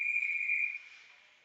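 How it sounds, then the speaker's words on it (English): A referee's whistle at a boys' varsity ice hockey game blows one loud, steady, high-pitched blast of about three-quarters of a second, then fades into faint arena ambience. "we've got a whistle"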